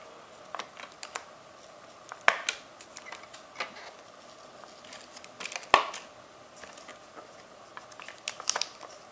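An X-Acto knife prying up a stuck screen connector inside a Sony VAIO VGN-NW270 laptop, giving scattered small clicks, ticks and faint scraping close up, with two sharper snaps standing out in a quiet room.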